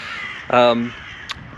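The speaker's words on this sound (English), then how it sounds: "Got a murder of crows flying over us." A group of crows flies overhead and gives a single clear caw, then a faint short call, over steady outdoor background noise.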